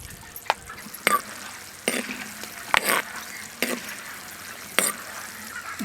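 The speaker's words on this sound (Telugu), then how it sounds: "ఇందులో తాలింపు దినుసులు కాడ వేసుకుంటున్నాను." Tempering spices crackle in hot oil with peanuts for tamarind rice, a low constant sizzle punctuated by repeated sharp scrapes and stirring clatters, heard close with no talking.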